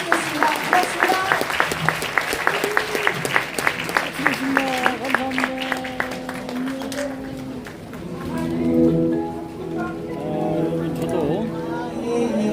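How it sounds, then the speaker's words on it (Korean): A crowd claps at the close of a book launch talk concert for Korea's Justice Minister Choo Mi-ae. Crisp, close applause fills the first several seconds, then fades as people begin talking and murmuring. "여러분 큰 박수로 오늘 출판 기념회 모두 마치겠습니다."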